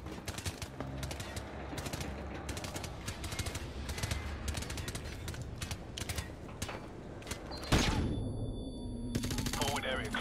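Rapid automatic gunfire from the Modern Warfare Remastered video game, a dense continuous clatter of shots with sharp bursts throughout, rising louder near the end amid game sounds.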